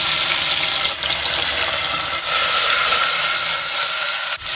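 Cumin seeds tempering in hot oil with green chillies, curry leaves and cashews ready, giving a steady broadband sizzle and hiss that holds loud and constant throughout, with brief dips but no talk.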